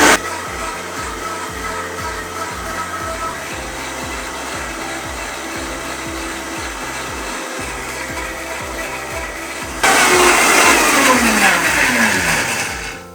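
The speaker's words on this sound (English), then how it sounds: "then we give the blender a quick spin" A Vita-Prep blender runs steadily on low with a pulsing motor drone, then the whir jumps louder and brighter near the end before easing off.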